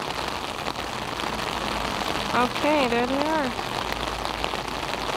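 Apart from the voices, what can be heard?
heavy pouring rain on street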